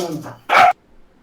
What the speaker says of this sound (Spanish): tengo a los perros aquí ladrando